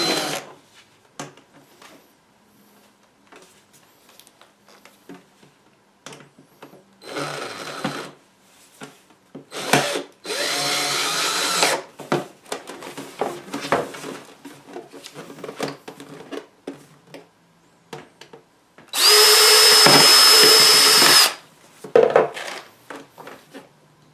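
Power drill driving screws into a metal dryer vent exhaust pipe, heard as several loud whirring bursts of a few seconds each, the longest near the end, separated by quieter handling clatter.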